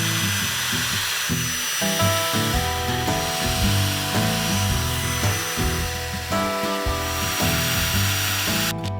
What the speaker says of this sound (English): We're going to start by drilling a bunch of holes.